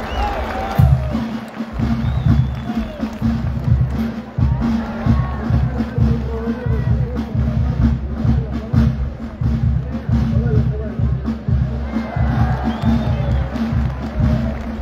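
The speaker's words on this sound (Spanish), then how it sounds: "Y el público retribuye con fuertes palmas." An audience applauding at a Peruvian chalán horse contest in San Pedro de Cajas, a sustained crowd roar of clapping and cheering with an announcer's voice over it throughout.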